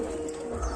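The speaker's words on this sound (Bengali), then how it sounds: "একটা পাঠা বাচ্চা ডাকছে" A young male pigeon gives a brief, soft coo, faint and alone against a quiet background.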